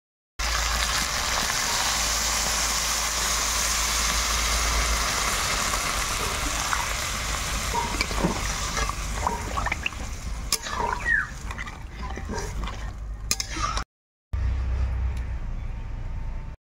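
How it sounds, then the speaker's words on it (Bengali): Water is poured into a pan of fried spices and potatoes for a Bengali rui fish curry, giving a loud continuous sizzling hiss that gradually settles into bubbling and clinks, with a short silent cut near the end. "এবার জল দিয়ে দেবো।"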